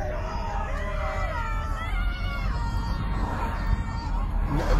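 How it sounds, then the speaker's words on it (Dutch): At a FIH Pro League field hockey match in Amsterdam, a crowd screams and cheers. High, wavering voices overlap in a loud, rising chorus above a low rumbling background. "Hoor ze nou schreeuwen, jongen?"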